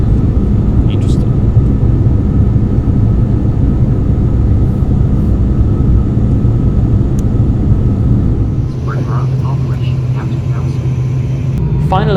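A turboprop airliner on final approach into Kaohsiung on a hazy evening gives a loud, steady cabin rumble and drone that eases slightly toward the end, with faint chimes and clicks over it.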